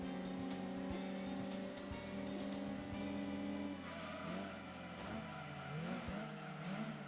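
Lancia Y racing in Gran Turismo 2, a steady buzzing engine note with harmonic whine that holds, then drops and wavers as the car shifts and corners, with faint tire noise and no talk.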